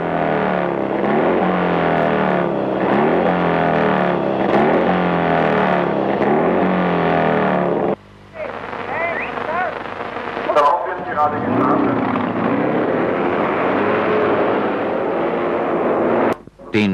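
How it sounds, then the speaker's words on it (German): A 1955 1000cc racing motorcycle engine at speed, loud raw blaring with rapid rev rises and falls, cutting off abruptly and returning as rougher, distorted roaring with a few sharp bangs. "Hier eine Tausender Schapp aus dem Jahre 1955, gefahren von Köhler Janowski."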